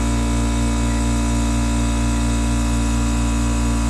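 A stalled air compressor motor running under load, its steady loud electrical hum and whine holding constant throughout with no break or talk.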